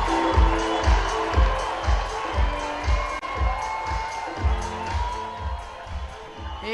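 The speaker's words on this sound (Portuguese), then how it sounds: "Fiquem com o som da quadra central, que a torcida vem abaixo nesse momento." A crowd cheers and claps in rhythmic bursts at the center court of an ITF Sand Series beach tennis tournament in Ribeirão Preto, loud and energetic, with chanting voices pulsing steadily throughout.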